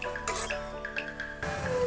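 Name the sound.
stirring mixture in frying pan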